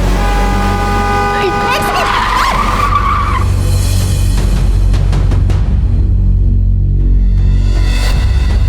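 A car skids to a stop with a loud, rising tire squeal over heavy engine rumble, followed by clattering impacts and a lingering low drone that fades to quieter idling.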